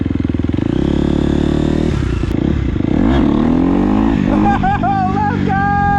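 A dirt bike engine revs hard during a wheelie attempt, a loud, close, buzzing drone that rises and falls in pitch with throttle blips, and a voice sounds briefly over the engine.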